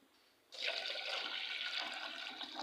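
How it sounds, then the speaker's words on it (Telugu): Water poured from a vessel onto washed moong dal in a pot, a steady close splashing pour that starts abruptly and runs on without pause, with no talking. "ఇప్పుడు పెసలు బాగా కడిగి కొద్దిగా వాటర్ వేసుకుంటున్నానండి"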